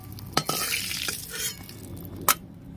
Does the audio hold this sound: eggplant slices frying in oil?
yes